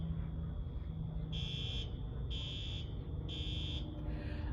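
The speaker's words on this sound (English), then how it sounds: "the fire alarms are going off." Fire alarms sounding at a gas station, a harsh electronic buzzer blaring in three evenly spaced pulses of about half a second each over a constant low hum, loud and close, with no speech.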